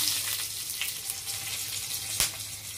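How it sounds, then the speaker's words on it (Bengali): Whole garam masala, bay leaves and dried red chillies sizzling in hot oil as a tempering for prawn malai curry: a steady, close, soft crackle with one sharp pop near the end. "আরেকটু তেল দিয়ে দিচ্ছি। ফোড়নে দিয়ে দিচ্ছি গোটা গরম মশলা, তেজপাতা, শুকনো লঙ্কা"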